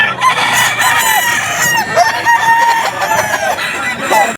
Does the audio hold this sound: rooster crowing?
yes